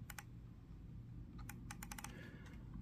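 The sniper button on a Razer Basilisk gaming mouse is clicked repeatedly in a close, quiet series of sharp, light clicks, some in quick pairs and clusters, over a low steady hum.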